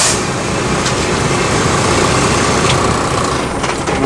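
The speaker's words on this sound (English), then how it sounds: "You can listen for the brake to actually charge the system." A truck's air brake system charges while the engine idles during a DOT pretrip inspection, heard as a loud, steady engine rumble with a continuous hiss layered over it.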